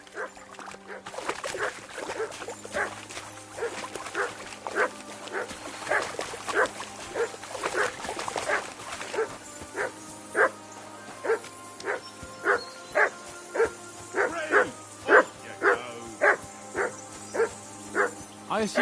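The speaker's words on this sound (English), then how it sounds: "I assume you can hear that damn dog of yours barking." A dog in Kingdom Come 2 barks over and over, loud and close, in a steady string of sharp woofs. Some talking and a low drone run underneath for part of the time.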